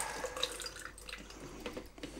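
Brine draining off jarred capers, a faint, continuous watery trickle and splatter with small drips, heard alone at close range.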